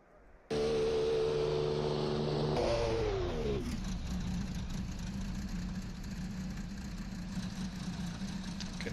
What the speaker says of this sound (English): Can hear engines starting